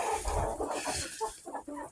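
Chickens cluck inside a backyard coop: a run of short, fairly quiet clucks and soft throaty calls that follow one another closely with no talking.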